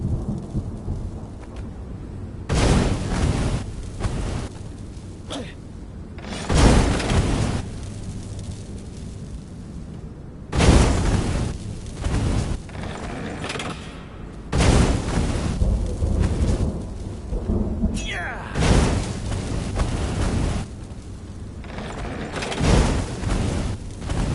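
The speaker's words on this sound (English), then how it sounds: "Cannon trap. Who kept these things loaded anyway?" Cannon trap explosions in the action game Stories: Path of Destinies, a series of heavy booming blasts that each roll off into rumbling decay, repeating irregularly over a low continuous background with no speech.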